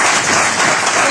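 A brief, steady burst of audience clapping at a DXN motivational speech event in Bahrain. It is loud and continuous, with no words spoken over it.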